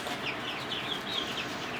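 Many small chicks peep continuously in high, thin chirps, overlapping in a steady busy chorus close by.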